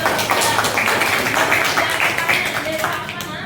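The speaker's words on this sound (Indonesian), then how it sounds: "Tepuk tangan dulu." A school class clapping hands together in a classroom, a loud, close burst of mixed claps with some voices over it, tapering slightly toward the end.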